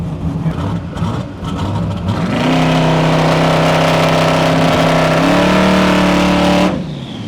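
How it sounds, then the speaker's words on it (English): A car engine revs hard during a burnout attempt, rising from a rough idle into a loud, sustained high-rpm roar that steps up in pitch once before cutting off abruptly, close and dominant. "gonna see if it'll do a burnout"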